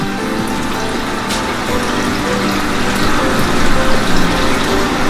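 A reverse osmosis deionization filtration unit pumps and fills water for a 250-gallon saltwater aquarium, giving a steady, close, continuous rushing hum of pump and flowing water with no break.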